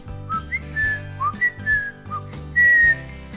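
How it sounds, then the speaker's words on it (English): A person whistles a bouncy tune of short rising and falling notes, some held longer, close and clear over a steady background beat with no talking. "It allows me to whistle."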